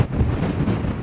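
Strong storm wind gusts across an Irish snail farm, a brief, heavy, low roar buffeting the microphone with rumbling pressure.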